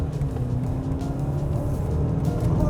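A 2021 Jaguar XF in dynamic mode with sport suspension takes a turn, heard as a steady, continuous engine and road drone from inside the car, with no voices.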